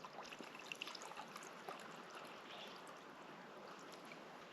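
Tequila poured into a cup of water at a backpacking camp, a soft steady trickle that runs the whole time under faint outdoor ambience.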